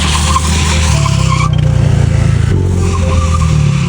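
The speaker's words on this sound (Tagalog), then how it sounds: "Yung motor ni Miko, nilalaro lang sa buhanginan." A motorcycle ridden around on sand, its engine droning and revving steadily while the tires skid and scrub loudly and close throughout.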